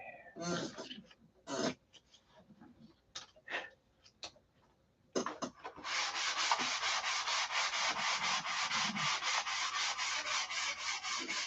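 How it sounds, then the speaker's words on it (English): Hand sanding on metal with 180-grit sandpaper: a few separate scraping strokes, then fast, steady back-and-forth rasping that goes on evenly, close by. "I know when it's time to stop sanding."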